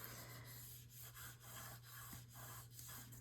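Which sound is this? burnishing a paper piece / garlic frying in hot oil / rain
burnishing a paper piece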